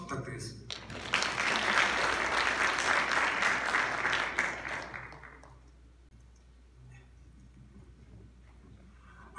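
Audience applause at an architectural structures policy seminar, starting abruptly, swelling into a dense burst of clapping for a few seconds, then fading out and leaving quiet room tone.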